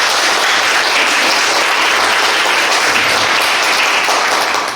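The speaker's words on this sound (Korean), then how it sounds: "수고해주신 6분의 발제자와 토론자분들께 다시 한번 박수 부탁드립니다" An audience at the Suncheon economic forum applauds: dense, loud, continuous clapping from many hands, sustained evenly from start to finish with no talk.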